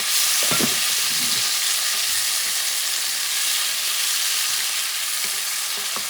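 Tomatoes sizzle in hot olive oil in a pot of bison stew, a loud, constant hiss close by, with a few soft stirring knocks and scrapes early on.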